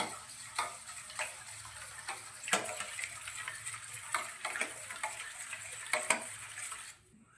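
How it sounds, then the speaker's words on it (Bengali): Caramel pudding batter made with eggs, milk and powdered milk is whisked in a bowl, producing steady, close clicking and tapping strokes with a wet, sloshing texture that stop abruptly near the end. "এবারে সমস্ত কিছু খুব ভালোভাবে ফেটিয়ে নিচ্ছি।"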